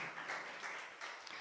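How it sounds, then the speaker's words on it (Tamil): A church congregation claps hands together in thanksgiving, a dense steady patter of many hands that sounds fairly close and continues without pause. "நல்ல கைத்தட்டி ஆண்டவருக்கு நன்றி சொல்லுங்க"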